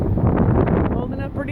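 Strong wind of around 40 mph buffets a homemade beach shade canopy, a loud, steady rushing roar with flapping close to the microphone under continuous talking.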